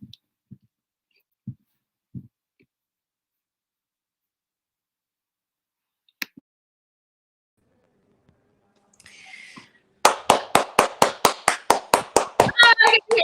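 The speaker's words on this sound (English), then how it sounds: "Applause." Applause after a performance at an open mic night: a few scattered taps over near silence, then sharp, evenly spaced claps that break out loud and close in the last few seconds.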